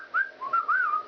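A person whistles a short, wavering tune of a few rising and falling notes, close and fairly loud, with no other sounds.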